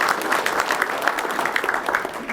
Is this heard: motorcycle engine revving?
no